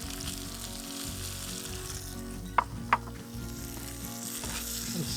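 Prawn cutlets sizzle steadily in a hot frying pan, a constant close crackle with two sharp clinks partway through as they go in and are stirred.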